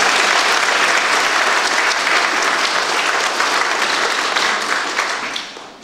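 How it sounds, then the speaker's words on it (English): An audience at a live show applauds itself: loud, dense clapping fills the room at full strength for about five seconds before fading away. "give yourselves a round of applause"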